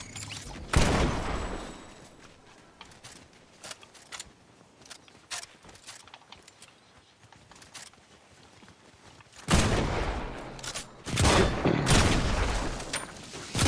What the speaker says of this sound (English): Our NPC's throwing bombs at him.